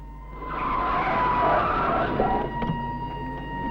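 A car brakes hard and its tires skid in a long, loud squeal lasting several seconds over the engine's low drone, close by, with no talking.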